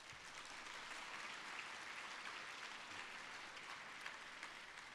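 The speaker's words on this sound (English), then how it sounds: "I want to thank one more round of applause for our panel" Applause for a panel at a luncheon: dense, even clapping from a large crowd filling the room for five seconds, with no voices standing out.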